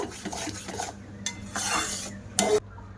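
A spoon stirs salt into homemade mango kasundi in a pot, giving several close scraping and clinking strokes in short bursts with brief pauses between them.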